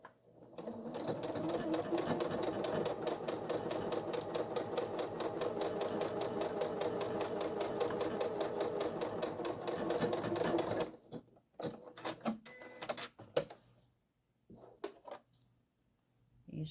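A sewing machine basts the tongue onto a pleated fabric pouch, stitching at a fast steady rattle for about ten seconds, then stopping before a few light handling clicks and rustles.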